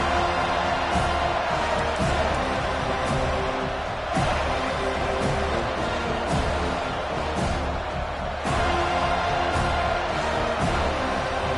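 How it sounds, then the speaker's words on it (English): Stadium crowd in College Football 25 roaring steadily at kickoff, a loud sustained wall of cheering with a few sharp swells, while a commentator talks over it. "This crowd bringing an ear-splitting welcome to their visitors."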